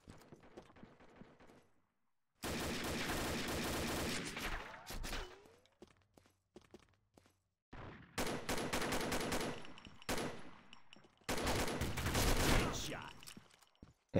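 Gunfire in the shooter game Combat Arms Reloaded, with long bursts of rapid automatic fire broken by short gaps and scattered single shots, loud and continuous through most of the stretch.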